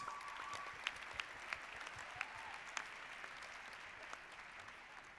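Applause from an audience at a startup pitching event follows a pitch, heard as a faint, steady patter of clapping with a few sharper claps standing out.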